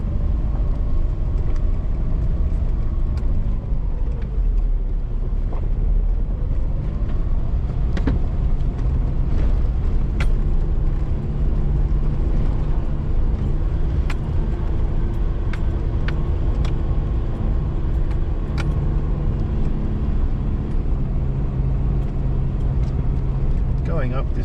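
An off-road vehicle rolls down Newmans Track in third gear, its engine a steady low rumble with occasional knocks and clunks from the rough ground, close and continuous, while someone talks now and then.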